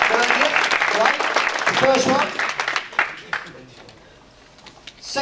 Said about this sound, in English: Can we have applause for online book publishing?